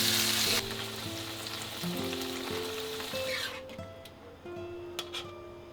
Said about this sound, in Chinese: 一面煎到金黄，另一面呢稍微煎一下就行。